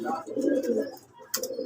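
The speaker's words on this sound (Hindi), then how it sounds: "ये सारे अच्छे कबूतर हैं, ये सारे उड़ने वाले कबूतर हैं" Pigeons coo softly in their loft, with a few low throaty murmurs and a brief sharper flutter or call near the end.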